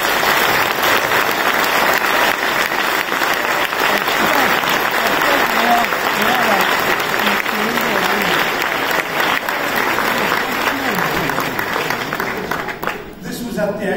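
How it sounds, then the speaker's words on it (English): Warm, sustained applause from a conference audience fills the room, dense clapping holding steady for most of the stretch before thinning out near the end. "a really warm round of applause"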